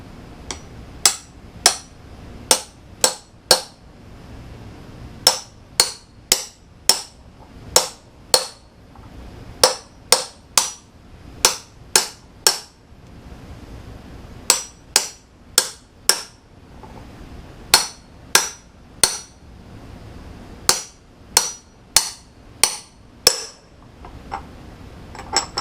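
A socket is hammered to drive a bearing into a Suzuki Boulevard C50 motorcycle, giving sharp metallic strikes in quick bursts of three to five, about forty blows in all, loud and close with no talking.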